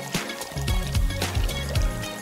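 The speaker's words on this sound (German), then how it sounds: "Aber statt Wasser gibt's Diätlimo." Diet soda poured into a toy bathtub, a steady liquid fill with fizzy trickling and a few low gurgling bursts close by, continuous for about two seconds.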